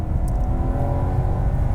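Supercharged BMW M3 E46 with an ESS centrifugal supercharger, its engine holding a loud, steady, close-up rev with a dense low rumble throughout, no talking.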